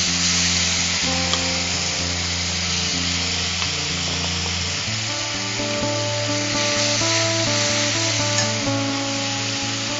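Grated raw mango and chopped green chillies fry in hot oil, with a steady, loud, continuous sizzle and occasional stirring scrapes throughout, no talking.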